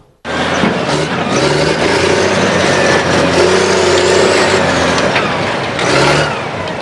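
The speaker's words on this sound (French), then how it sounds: "Le tracteur emporte tout sur son passage" Heavy tractor engine working steadily on a beach in Senegal, the Plage du Virage, clearing away structures; a loud, continuous mid-pitched roar with slight surges, close by and sustained throughout.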